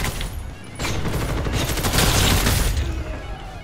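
Sustained, loud, dense gunfire from the Ghost in the Shell First Assault shooter game, with rapid overlapping shots and booming bursts for several seconds and no speech.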